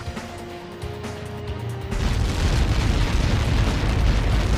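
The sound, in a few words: explosion of a missile impact in Ace Combat 7 video game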